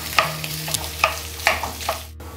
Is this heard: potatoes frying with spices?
yes